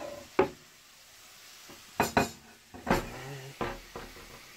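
Metal cutlery clatters in a home kitchen, with a fork dropped onto the floor, giving a few sharp, separate clinks and knocks scattered across a quiet background.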